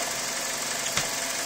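A 2000 Ford Focus engine idles with a steady, moderately loud hum and a faint rough vibration, with one brief louder knock or thump partway through and no talking.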